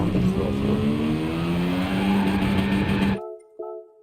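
A race car in Gran Turismo Sport drifts with a loud, steady engine drone and tire noise that cuts off abruptly, leaving a faint tonal hum and a small click.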